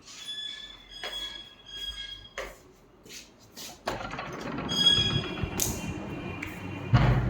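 Pet birds in a house give short, shrill squawks and chirps, followed by thumps and a rising rumble of household noise.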